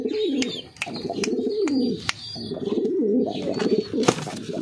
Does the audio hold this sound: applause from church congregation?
no